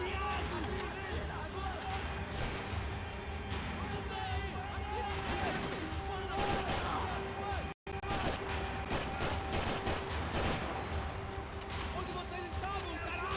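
Gunfire crackles nonstop through a dense, loud Max Payne 3 video game firefight, with repeated sharp shots layered over music and effects, broken by one brief dropout partway through.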